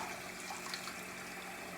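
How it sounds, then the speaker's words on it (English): Fresh collard greens are rinsed in a basin of clean cold water, giving a steady, soft wash of sloshing and trickling water with no talk over it. "I'm going to rinse them one time so you can see how I do it"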